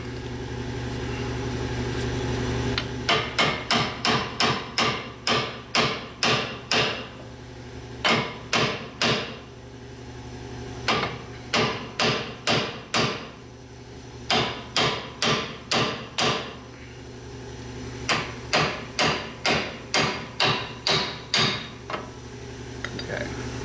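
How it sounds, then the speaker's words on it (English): Hammer blows drive a pinion seal into a Jeep Gladiator axle in rapid bursts of sharp metallic strikes, several quick groups separated by short pauses, loud and close over a low background hum. "we can drive in the seal and get everything else ready, then we can tighten this down"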